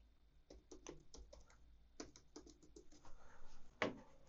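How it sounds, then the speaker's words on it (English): Keys clatter on a computer keyboard as a username and password are entered into a Netgear Nighthawk AX12 router login page, close, quick irregular clusters of taps ending in one sharper, louder keystroke. "So enter that username and password you just set up."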